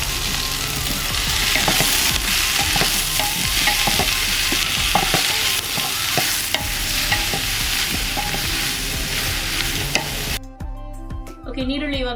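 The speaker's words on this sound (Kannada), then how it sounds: "ನೀರುಳ್ಳಿ ಇವಾಗ ಇಲ್ಲಿ ಕೆಂಪಾಗಿ ಫ್ರೈ ಆಗಲಿ" Chopped onions fry in hot oil with kasuri methi and fennel seeds for a village-style mutton curry, giving a close, continuous sizzle with frequent stirring scrapes, ending suddenly near the close.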